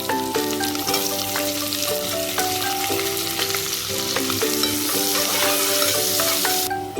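Green chillies and onions sizzle in hot ghee for vegetable biryani, a loud, steady frying hiss with repeated scraping stirs of a spoon against the pan, close and continuous.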